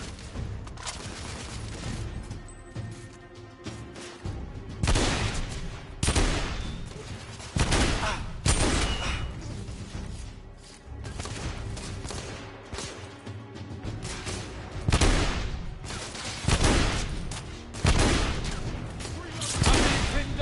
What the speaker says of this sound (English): Taking suppressing fire.